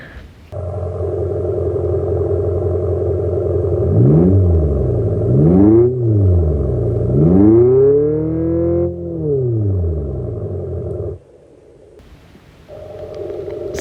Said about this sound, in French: on peut activer une option qu'Abarth a créée qui est un faux son